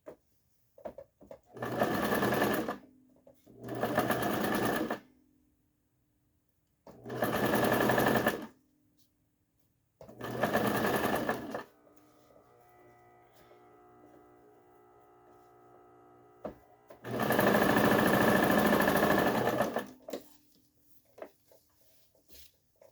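Sewing machine stitching the cuff of a salwar, running in several loud bursts of rapid needle clatter separated by pauses, with a quieter low hum in one gap.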